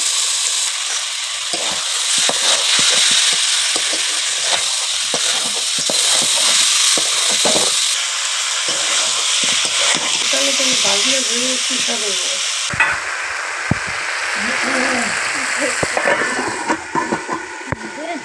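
Mutton sizzles loudly as it fries and gets stirred in a pot for mutton curry, a steady crackling hiss with scraping stirs running the whole time under a voice talking.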